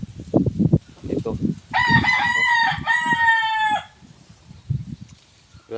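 A wild red junglefowl crows twice in long, strained calls, close and loud, set among shuffling and low clucking sounds with no talking.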